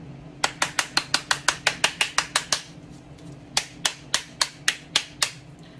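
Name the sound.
spoon tapping on a bath bomb mold shell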